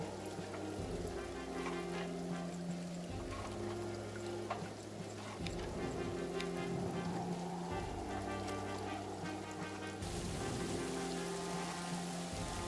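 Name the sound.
heavy rain in the video game All Quiet in the Trenches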